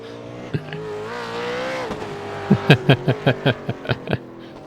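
V8 race cars run in a sim racing game at Oran Park, an engine note droning and shifting pitch, then a quick series of about eight sharp, evenly spaced bangs.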